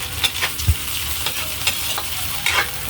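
Hotdog pieces frying in a pan with ground meat for spaghetti, a loud continuous sizzle punctuated by a few sharp stirring clanks of a utensil against the pan, close and without talk.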